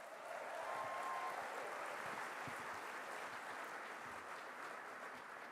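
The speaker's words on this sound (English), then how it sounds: "A big round of applause for Rachel, who's done an amazing job." A large audience at the 2026 Liberal National Convention applauding in a big hall, a dense, even wash of clapping that holds steady for several seconds at a moderate distance.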